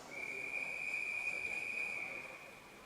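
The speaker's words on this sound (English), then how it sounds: "Our whistles are due. They are poised to be blown." A single shrill whistle at a swimming championship sounds loud and steady for about two seconds. It then cuts off against faint, echoing poolside background noise.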